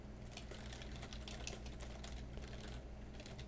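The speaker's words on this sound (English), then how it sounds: "And then I would just type something with the word learn in it." Quiet, steady clatter of fingers typing on a computer keyboard during EverQuest play, rapid soft keystrokes running continuously over a low background hum.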